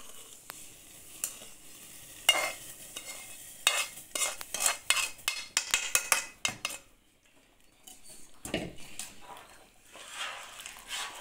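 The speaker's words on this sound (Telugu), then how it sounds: "అలా మరిగేటప్పుడు ఈ ఏపు పెట్టుకున్న నూక వేసేసుకోవాలండి అందులో." Roasted wheat semolina is tipped into boiling water in a pot for upma, giving a burst of sizzling and bubbling with stirring scrapes and spoon clinks against the vessel, close and fairly loud.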